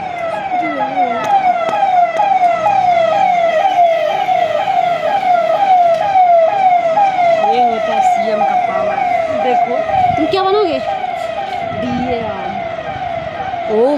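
A police convoy escorting a Chief Minister's car, a Fortuner in the middle, passes with loud wailing sirens cycling continuously and close by, road traffic underneath and people talking excitedly over it.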